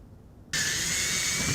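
Power drill starts abruptly and runs steadily at close range, boring through a boat brush pole with a dull bit along a pilot hole, a loud sustained whine holding to the end.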